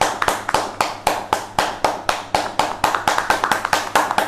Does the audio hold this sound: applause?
yes